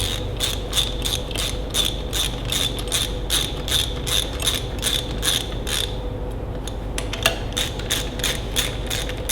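Rapid, even clicking of a ratchet socket wrench snugging bolts on a Ferguson TEA20 tractor, close and steady over a low hum, with a brief pause before the clicking resumes.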